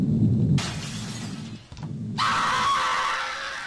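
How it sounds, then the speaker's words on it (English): In the video game Happy Wheels, a burst of screaming-children sound effect follows a glass-shattering crash, loud and distinct after a short dip. "You hear screaming of children."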